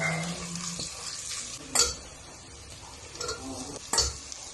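Whole spices and onions frying in oil and ghee in a pressure cooker for palak paneer pulao, a steady low sizzle broken by a few sharp metallic scrapes of a stirring spoon against the pot.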